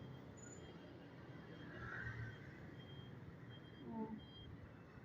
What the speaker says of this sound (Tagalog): bumibigat na yung traffic mga kami malabs